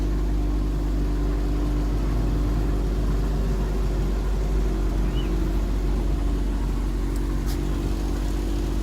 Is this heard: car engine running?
yes